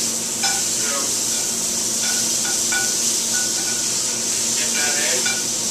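Butter melting in a hot pan while making bourbon French toast gives off a steady, even sizzle and hiss that runs the whole way through at an unchanging level, with a few faint clinks over it.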